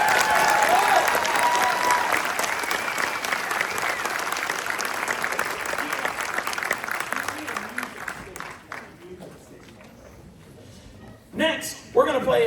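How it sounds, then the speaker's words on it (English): Applause for Tyler Kirby from the audience at a high school concert band winter concert, a loud sustained crowd of clapping that tapers off and dies away, then a few brief sounds close by. "One more round of applause for Mr. Tyler Kirby, though"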